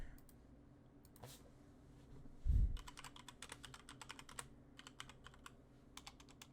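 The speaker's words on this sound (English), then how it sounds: "Why am I typing in caps?" Quick bursts of key clicks on a computer keyboard, an uneven close clatter with one brief low thump partway through, fairly quiet, no one speaking.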